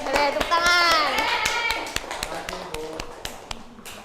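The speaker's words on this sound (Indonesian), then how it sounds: "Boleh tepuk tangan." A classroom of children clapping together, a burst of quick taps that thins to scattered claps, with children's voices calling out over the start.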